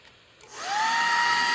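A heat gun or hair dryer blowing hot air into a GMC Tahoe Denali side marker light switches on and spins up into a steady rising whine and rush, close and alone.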